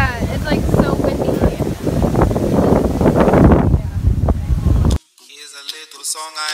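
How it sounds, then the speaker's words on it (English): Strong wind buffets the microphone outdoors at a spring flower and garden festival, a loud rushing roar mixed with talk for about five seconds before cutting abruptly to music. "It's so windy today."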